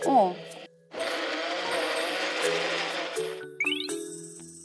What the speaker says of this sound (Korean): 그대로 배 껍질을 믹서에 넣고 갈기 시작하는데요